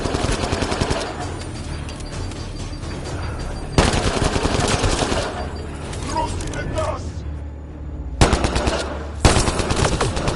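Heavy automatic gunfire rattles on almost without a break during a firefight in the video game Mass Effect Andromeda, loud and close, with brief lulls and with in-game voices talking over it.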